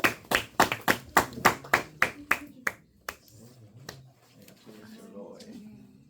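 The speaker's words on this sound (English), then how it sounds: "shall we give Danny a round of applause?" In a high school calculus classroom, a few students clap a quick run of about a dozen sharp, close claps that stop after roughly three seconds, followed by scattered single claps and quiet murmuring.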